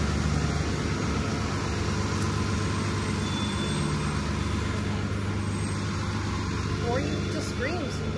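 A bus rumbling past on a road beside a resort walkway, a steady low engine drone at moderate distance, fairly quiet, with faint outdoor ambience.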